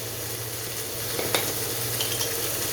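Textured vegetable protein chilli sizzles steadily in a hot pan, a dense crackling hiss with a few louder pops and faint stirring scrapes, close up with no talking.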